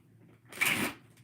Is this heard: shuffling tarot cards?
yes